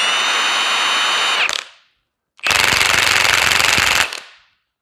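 Milwaukee 2767 H96A cordless high-torque impact wrench hammering in two loud, close bursts of rapid rattling impacts, each about one and a half seconds long, separated by a short silence, with no talk.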